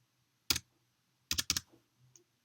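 A few sharp computer keyboard keystrokes while PHP code is typed, one isolated tap followed by a quick cluster of three and a softer final click, close and clear in a quiet room.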